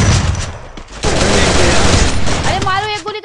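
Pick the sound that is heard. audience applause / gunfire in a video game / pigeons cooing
gunfire in a video game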